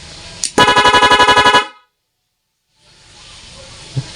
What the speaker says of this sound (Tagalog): Yan yung ating rapid horn.